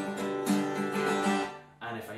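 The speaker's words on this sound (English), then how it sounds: "So if I stick with the strum pattern, it sounds like this." Acoustic guitar strumming the song Red Haired Mary in a quick rhythmic pattern of down and up strokes, close and fairly loud, with a brief pause before another strum.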